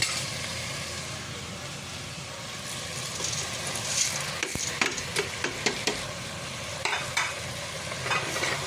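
Chicken feet and wings sizzle in a pan as mung beans are added and stirred, a steady frying hiss broken by a run of sharp scraping clicks from the utensil, close and moderately loud.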